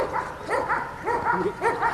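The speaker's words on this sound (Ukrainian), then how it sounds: "До навчань залучені спеціально треновані собаки." Trained German shepherd dogs at a youth dog-handling class give repeated short barks and yelps, several in quick succession over two seconds, fairly close and clear with no talk.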